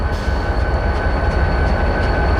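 A Montana Rail Link SD40-2 locomotive passes close by on the Needles Subdivision near Needles, its loud steady rumble carrying rolling wheel noise and a faint tonal whine, with no voices.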